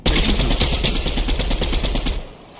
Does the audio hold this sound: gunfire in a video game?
yes